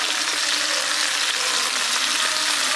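Long strips of peeled radish sizzle loudly in a hot pan of oil for a village-style vegetable labra, a continuous, dense frying hiss with no talk.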